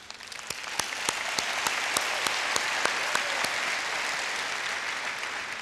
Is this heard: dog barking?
no